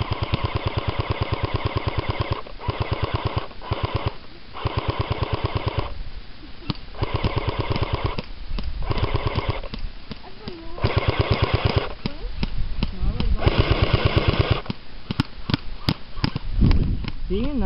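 A Famas airsoft gun fires long full-auto bursts with rapid mechanical rattling, close and loud, separated by short pauses during outdoor play; a voice speaks briefly between bursts.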